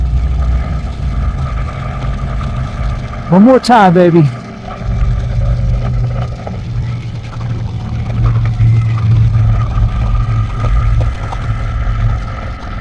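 A Rolls-Royce Phantom's engine drones steadily as the car climbs a hill road, loud and close throughout, with someone speaking briefly over it partway through.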